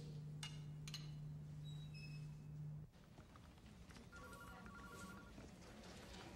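An old-style telephone rings with a steady electronic trill for almost three seconds, then cuts off, leaving quiet room tone with a few faint beeps afterward.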